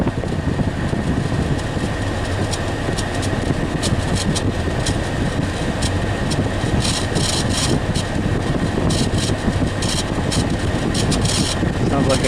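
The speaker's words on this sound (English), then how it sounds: "Sounds like I got a little blower motor noise." Cabin blower motor in a 2006 HHR running on its high setting, a loud, steady rushing whoosh of air that holds constant and close throughout, with faint intermittent ticking above it.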